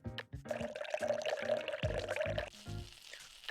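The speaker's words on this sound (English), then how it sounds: "Now let's add some vinegar." Vinegar pours into a bowl of chicken and soy sauce marinade as a soft continuous trickle, mixed with loud looping background music.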